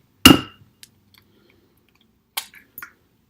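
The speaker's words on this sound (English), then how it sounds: "we're going to grab our egg and we're going to crack it" An egg being cracked while making lemon tea cookies, one sharp close crack followed by a few faint, brief taps and clicks in an otherwise quiet kitchen.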